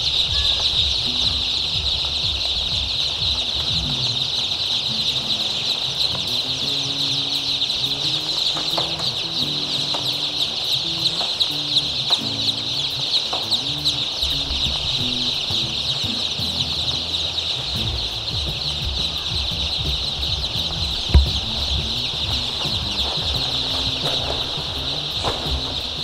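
Many young chicks cheeping together on a poultry farm, kept warm in a packed enclosure; a dense, continuous, high-pitched chorus of peeps runs throughout, close and steady, with occasional rustles and clucks beneath.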